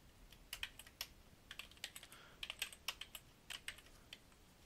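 Quiet, irregular keystrokes on a computer keyboard, clustered into short bursts of typing with brief gaps, close and soft, with no talking.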